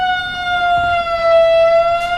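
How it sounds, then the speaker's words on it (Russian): A siren tone played through a vibration speaker pressed against a household appliance, such as a vacuum cleaner or iron, wailing steadily and loud for a couple of seconds, slightly buzzy and with no talking. "Ребят, сирена."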